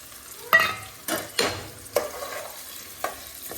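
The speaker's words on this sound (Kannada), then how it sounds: "ಎಣ್ಣೆ ಸ್ವಲ್ಪ ಕಾದ್ಮೇಲೆ ಈರುಳ್ಳಿ ಹಾಕೋತಾ ಇದ್ದೀನಿ" Onions frying in hot oil make a low, steady sizzle, punctuated by several distinct stirring scrapes spaced about half a second to a second apart.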